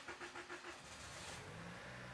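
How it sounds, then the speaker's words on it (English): A 2018 Toyota Camry with a long-crank starting fault, the starter cranking in quick pulses before the engine catches and settles into a steady running rumble. "Okay, so the engine is running."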